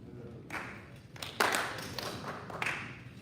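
Clapping at a Rotary club meeting, a few separate sharp claps spaced out over a few seconds, fairly close and isolated rather than a full ovation.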